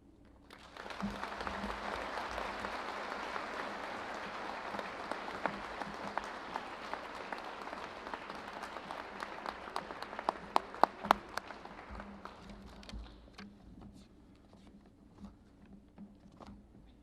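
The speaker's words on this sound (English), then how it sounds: "give Tanya one more round of applause" Sustained audience applause at the Palo Alto 2021 commencement ceremony, a dense wash of many hands clapping that swells quickly, holds steady for about twelve seconds with a few sharp nearby claps, then thins out and fades.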